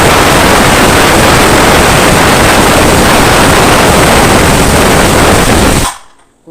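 A mixer grinder runs loud and steady, grinding coconut with two to four small shallots for a jackfruit curry, then cuts off abruptly near the end.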